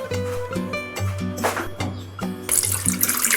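Water is poured into a bowl of soy sauce, oyster sauce, sugar and corn starch, trickling in short bursts and clinks, with a louder, brighter splash near the end.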